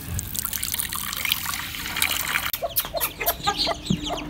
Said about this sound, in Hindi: इसमें पानी डाल के मैं इनके आगे रखूँगा।